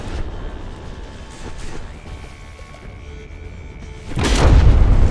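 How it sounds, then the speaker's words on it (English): Naval gun salvo in Dread Not Nautical Domination, a loud deep boom that erupts near the end and rumbles on heavily after a stretch of lower mechanical noise with a faint tone, no voices present. "Another partial salvo."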